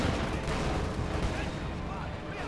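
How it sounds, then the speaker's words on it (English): Rapid gunfire from a strafing run in Company of Heroes 2, a dense continuous rattle of shots and blasts at steady loudness for the whole stretch, with a caster's voice faintly underneath. "Strafing run."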